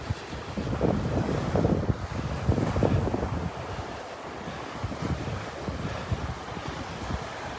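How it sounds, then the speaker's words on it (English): Steady, loud wind buffets the microphone on a sunny morning at Delnor-Wiggins beach in North Naples, with a rushing surf wash underneath and gusts swelling and easing throughout; no one speaks. "there's that wind."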